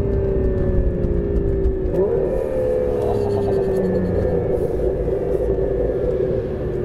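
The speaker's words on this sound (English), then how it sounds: "Coming down the revs right to the 1000 RPM mark, and you get lovely crackles" A 2017 Aston Martin Vanquish S engine drones steadily with a low rumble, its pitch dropping as the revs fall away toward 1000 RPM, no voices present.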